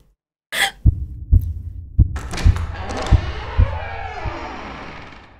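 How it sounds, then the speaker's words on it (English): A heavy heartbeat thumps in a school-set survival horror video game, a series of deep, evenly spaced thuds at close range, while a swelling eerie drone builds beneath and a voice speaks briefly over the beats. "Is that my heartbeat?"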